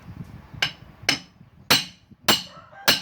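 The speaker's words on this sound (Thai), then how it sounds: "ตอกเรื่อยๆครับ หาจังหวะตอกให้ได้ครับ" Five sharp, separate hammer blows ring out at uneven intervals as a front axle bushing pin is driven out of a Yanmar EF494T tractor, each strike close and metallic over a quiet background.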